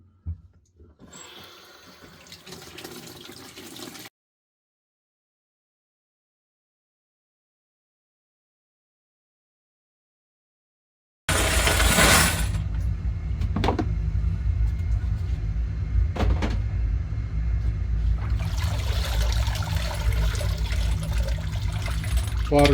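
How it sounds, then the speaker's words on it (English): Fired .30-06 cartridge brass is rinsed under running tap water, a loud close rushing splash that stops for several seconds of silence, then returns strong and steady with clinking in the sink. "We'll give this some rinsing."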